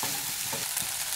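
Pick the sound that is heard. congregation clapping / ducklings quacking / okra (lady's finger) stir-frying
okra (lady's finger) stir-frying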